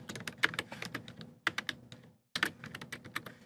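Computer keyboard typing in quick bursts of close, crisp key clicks, with two short pauses between runs and no talking.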